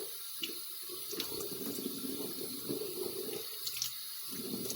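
Tap water runs into a sink during an evening face wash, a soft steady splash with brief pauses where hands interrupt the flow, quiet and close.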